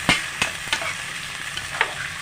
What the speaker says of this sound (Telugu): వీటిని ఇలా ఫ్రై చేసుకుందాం